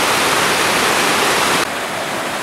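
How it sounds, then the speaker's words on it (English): A mountain stream in the Colorado Rockies rushes along a backpacking trail, a loud, steady broadband wash of water heard close with no talk. "the stream goes on the trail here."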